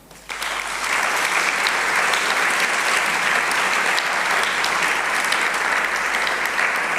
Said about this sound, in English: give a round of applause to the 13 who were shortlisted